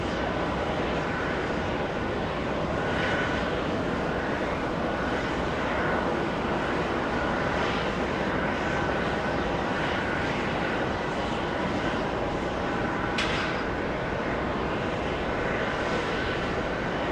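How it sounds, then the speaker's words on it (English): An Avianca Airbus A319 departing JFK for Bogota, banking right after takeoff, gives a steady, fairly distant jet roar that holds evenly throughout, without talk. "Little Avianca heading to Bogota, Colombia. That's a little A319 bank right after departure."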